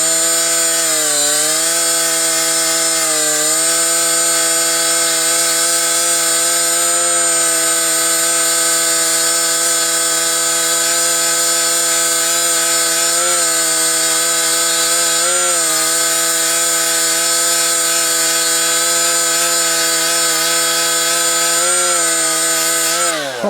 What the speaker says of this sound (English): it doesn't make me nervous to grind the key end down